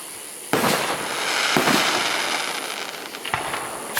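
Fireworks at an Altus show burst with several loud, concussive booms, each sharp blast trailing into a rumbling crackle, spaced roughly a second or two apart.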